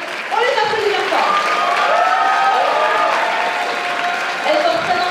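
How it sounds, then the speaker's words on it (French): An audience applauds cosplay guests at the Japan Impact 2018 cosplay show and awards ceremony, a loud, steady wash of clapping that carries on under a speaker's voice. "On les applaudit bien fort."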